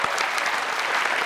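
Studio audience applause on a quiz show, a dense burst of clapping that fills the short moment evenly, lively and close with no voices over it.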